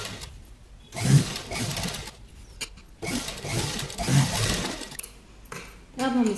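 A sewing machine stitches a patch onto the neck of a kurta, whirring loudly in two long bursts with a pause between them. It is close, and a faint voice comes through near the end.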